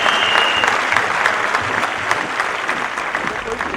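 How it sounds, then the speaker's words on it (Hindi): A seated audience at a leadership talk breaks into loud, sustained applause, many hands clapping densely and evenly throughout, with no speech over it. "सब लोग उनके लिए तालियां बजाएं"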